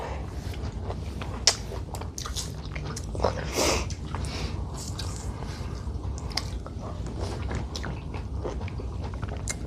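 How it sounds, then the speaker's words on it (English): Close, wet chewing of orange segments, with soft squishy bites and juicy smacks repeating in an uneven rhythm over a steady low background rumble. "the chewing of oranges is very loud"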